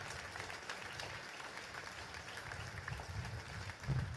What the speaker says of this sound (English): If they could rise up and get a round of applause for these women and men.